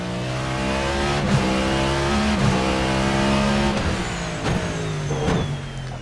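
A Cadillac hypercar in Assetto Corsa holds a steady, loud engine drone at high revs, with brief jolts and tire noise as it bumps over a curb. No one speaks.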